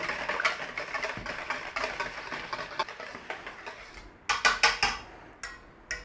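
A spoon stirring garlic and onion powder into a tuna noodle casserole mixture, with a series of scraping, clinking strokes against the dish, louder bursts near the end.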